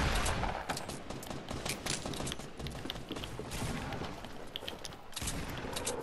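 Gunfire during a Fortnite duo match: dense, continuous bursts of rapid shots and impacts crackle throughout, loud and close, with only brief dips in intensity.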